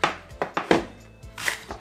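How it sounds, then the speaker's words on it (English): A knife chops leek into chunky pieces for vegetable soup, about six or seven crisp thuds on a cutting board in an uneven rhythm, close and clear with no talking. "you just wanna just cut up everything chunky, not too small"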